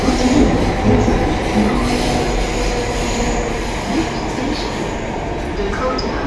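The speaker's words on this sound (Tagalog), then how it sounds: "Dito na ako sa loob ng train." A moving passenger train heard from inside the car, with a loud, continuous rumbling roar, faint rail clatter and occasional wheel squeal running throughout.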